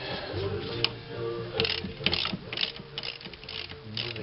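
Ratcheting wrench clicking as it works on rear brake caliper bolts, a near, uneven series of mechanical ticks over a low background rumble.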